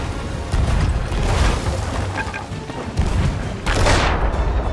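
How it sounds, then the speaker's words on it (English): Cannon fire from a ship battle in the pirate game Sea of Thieves: repeated loud booming blasts with a dense rumbling bed, one heavy burst near the end. "I just got one shot by a cannon."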